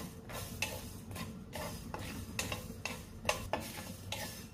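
Coriander, cumin, sesame and poppy seeds are dry-roasted without oil in an iron kadhai, a spatula scraping and stirring in repeated strokes with a faint rattle of seeds, close and steady with no voices.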